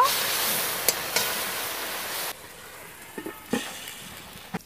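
Ghatkol leaf paste frying in a pan with a dense, steady sizzle for the first half, then a quieter low hiss after the lid goes on, broken by a few faint clinks and stirring knocks.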